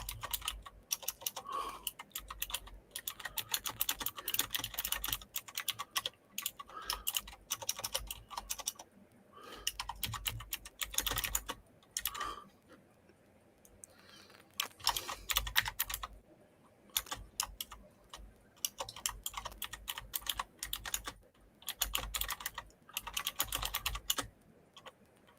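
Typing on a computer keyboard, with rapid bursts of close, crisp keystrokes broken by short pauses, heard alone throughout.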